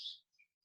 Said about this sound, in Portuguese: Os passarinhos estão brigando aqui em casa